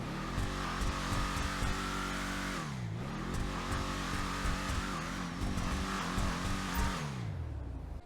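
A loud Bravado Greenwood car engine in GTA Online revs and roars steadily, with pitch swinging up and down through gear changes as the vehicle accelerates.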